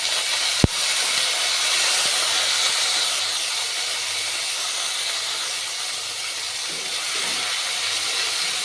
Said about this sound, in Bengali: হাফ টমেটো দিয়েছি, এটাকে ভাজা ভাজা করে নিই